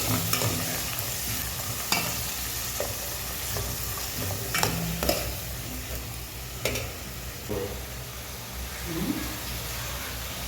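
Sliced onions frying in hot oil in a pan while a spoon stirs them, a steady loud sizzle with scraping stirring strokes throughout, no talking, during preparation of a drumstick thokku.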